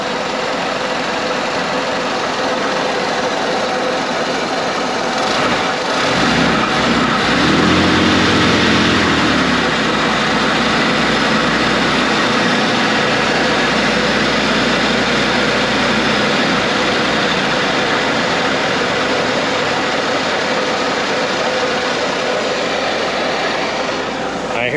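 An old Jeep engine, restarted after 15 years parked, idling loudly, roughly and unevenly, a dense rumbling drone close by with a shifting lower throb partway through and no clear speech.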